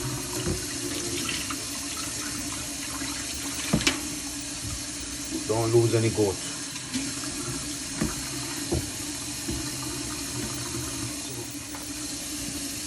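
Cold tap water runs steadily from a faucet while raw goat meat is washed in a sink for Jamaican-style curry goat, a continuous hiss with a few handling knocks and a brief voice speaking over it.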